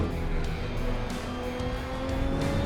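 A diesel-powered Audi endurance race car gives off a loud, steady engine roar with a rough, broadband texture that holds for a few seconds with no voices.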